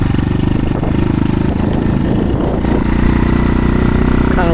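A dirt bike engine runs steadily while riding over moguls on a trail, a loud close continuous drone and clatter with slight shifts in revs and no talking.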